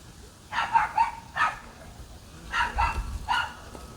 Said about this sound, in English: The neighbor has a new dog behind us.